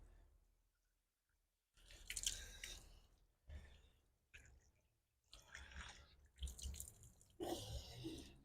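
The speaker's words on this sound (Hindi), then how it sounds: "ऊपर से पानी छोड़ेंगे।" Water poured over a hand and running off during wudu ablution, heard as several separate splashing bursts with dripping and short quiet pauses between them, close by with no talking.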